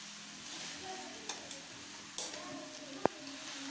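Grated coconut frying on a low flame, a soft steady sizzle with occasional scrapes and taps of stirring, plus one sharp clink near the end.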